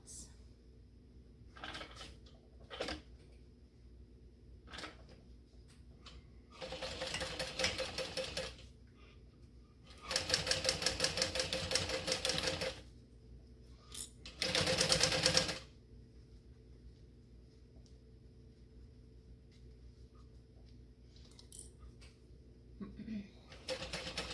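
A home sewing machine stitches the side panels of a Dayna Pack backpack with a straight seam, running in several bursts of a few seconds each, with quiet pauses between them.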